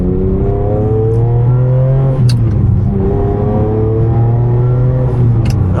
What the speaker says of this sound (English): I like the whine of the transmission.